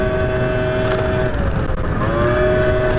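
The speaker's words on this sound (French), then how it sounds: "là on va faire le test de la vitesse maximum du scooter" A scooter engine drones steadily at high revs while ridden at top speed, a constant whine with a slight dip in pitch midway, loud and close throughout.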